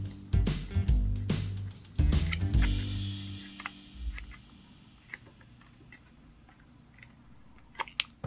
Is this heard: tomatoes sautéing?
no